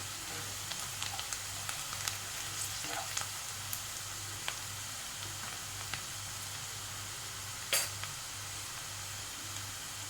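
Sliced onions fry for chicken khichdi in a pan, a steady close sizzle with occasional stirring scrapes and soft clicks, no talking over it.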